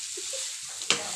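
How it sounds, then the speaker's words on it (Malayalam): A spatula scrapes through cooked bean stir-fry in a hot pan, giving one brief stirring scrape over a steady soft sizzle. "വെന്ത പയറുപ്പേരി വീണ്ടും ഇളക്കിക്കൊണ്ടിരിക്കുകയാണ് കേട്ടോ"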